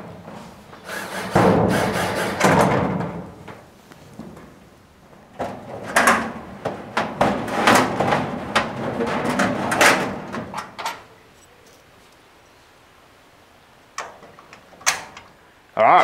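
Doors on a newly assembled garden shed are fitted and shut, giving bursts of rattling, rubbing and knocking wood or panel sounds in clusters, then a quieter gap before a few sharp closing thuds.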